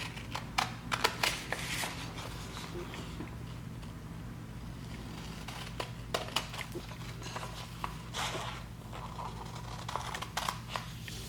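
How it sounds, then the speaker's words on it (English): Fabric being cut out for a cargo pocket piece, heard as a scattered series of sharp, close snips and rustles over a low steady hum. "Now I'm going to go ahead and cut out this pocket piece."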